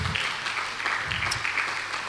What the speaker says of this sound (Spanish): Le damos un aplauso al Señor porque esto es un milagro que Dios hace.